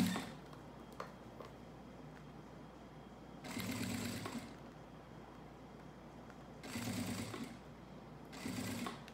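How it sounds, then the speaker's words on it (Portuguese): A sewing machine runs slowly to stitch piping, giving short bursts of rapid whirring separated by quiet pauses, fairly faint and close. "Pode ir devagarzinho para fazer essa costura do vivo."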